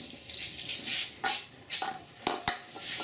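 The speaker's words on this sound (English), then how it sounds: "use a cleaner spray and a rag to clean up the rest" Cleaner spray hitting an engine-oil spill on the ground during a 2015 SHO oil change, several short hissing bursts in an irregular rhythm, close and moderately loud, with no talk.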